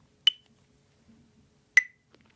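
A metronome set to 40 beats per minute gives two sharp, high clicks about a second and a half apart over near silence.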